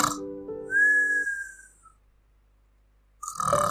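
A voice mimics someone snoring while whistling, giving a rough breathy snore followed by a long thin whistled tone, then a pause before another snort.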